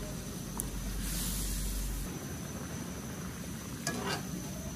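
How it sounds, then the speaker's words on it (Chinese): Diced carrots, green peas and corn kernels blanch in a pot of boiling water on a home kitchen stove, giving a low continuous bubbling hiss with a couple of brief, light utensil clinks. "锅中烧水，下入胡萝卜丁、青豆、玉米粒，给它焯水一分钟。"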